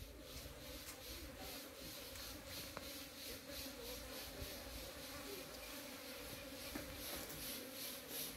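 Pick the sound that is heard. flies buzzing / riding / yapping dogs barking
flies buzzing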